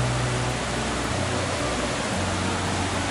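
A river flows down below, giving a steady, loud broadband rush of water with no break, heard alone without voices.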